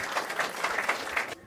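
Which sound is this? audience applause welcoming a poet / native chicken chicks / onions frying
audience applause welcoming a poet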